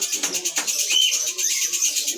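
A swiftlet lure device plays a high electronic chirp once, followed by softer bird-like twittering, with faint background noise and no voices.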